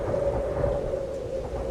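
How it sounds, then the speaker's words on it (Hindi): Heavy rain pours down in a storm with strong winds, a steady dense roar with low rumbling, continuous and fairly loud throughout with no voices. "जोरदार बारिश शुरू हो गई।"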